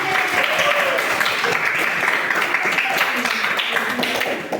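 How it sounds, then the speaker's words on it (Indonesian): A room full of people applauds for Indri at a school or community event, with steady dense clapping that holds loud and even for about four seconds, then starts to fade. Voices are heard faintly under it. "berikan aplaus buat Indri"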